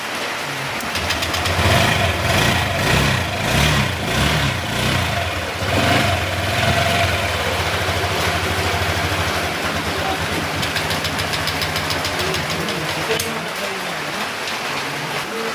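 A steady motorcycle engine idles and rumbles throughout, with a constant low hum under the patter of rain, close and fairly loud.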